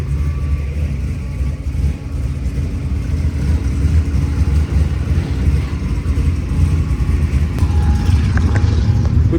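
A Corvette drag car with a 427 engine, bored 70 over with some head work, rumbles at a drag race, a deep, loud, continuous engine roar that swells slightly toward the end.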